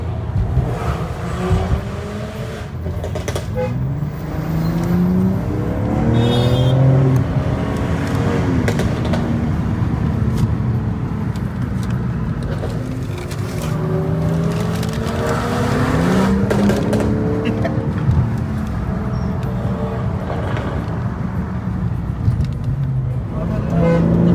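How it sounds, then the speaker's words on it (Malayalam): A BMW M340's exhaust sounds as the engine is revved repeatedly, each rev a rising, rasping note that falls back between bursts, heard close and loud. "ഞാൻ M340യുടെ എക്സോസ്റ്റ് നിങ്ങളൊന്ന് കേട്ട് വയ്ക്കണേ"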